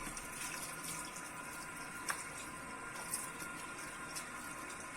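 A steady stream of shower water runs while hair is being washed at a salon basin, a continuous close hiss with faint splashes and no talking.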